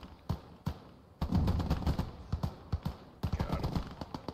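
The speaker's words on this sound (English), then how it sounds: "That MG42, that basically just shredded my whole squad." Bursts of MG42 machine gun fire from the Eastern Front battle game Gates of Hell: several short, sharp volleys of rapid shots, the loudest and densest in the second half, with brief gaps between them.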